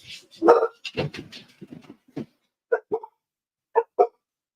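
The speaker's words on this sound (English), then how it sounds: "They're literally barking at nothing." A small dog barks in short bursts, several yaps in quick succession followed by a few sharper, spaced barks, fairly close.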